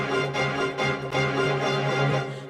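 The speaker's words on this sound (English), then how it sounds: "which is when the players turn their bow upside down and hit the strings," Col legno string section from a Spitfire Audio orchestral sample library, players striking the strings with the wooden back of the bow, giving a continuous dense texture of tapped tones with steady rhythmic pulses and no talk.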